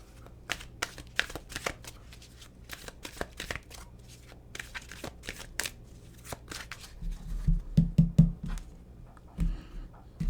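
Tarot cards being shuffled by hand, a steady run of crisp riffling and flicking bursts, fairly close, with a low thump and rustle of handling toward the end and no talking.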